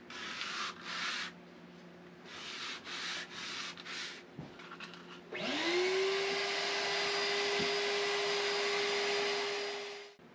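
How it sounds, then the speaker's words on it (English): A power sander strips old boat varnish from wood, first in short bursts of rough sanding, then a long continuous whirring drone as the motor runs up and holds steady before cutting off, close and loud. "then I'll go over it again with 80 grit and then 100 grit and then 180 grit"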